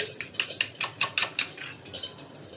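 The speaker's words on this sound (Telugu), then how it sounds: "ఆ లోపల ఎగ్ని మంచిగా బీట్ చేసేసి" Egg being beaten for an omelette, a quick run of about a dozen rhythmic clinks as a utensil strikes the side of a bowl, close and crisp, without talk.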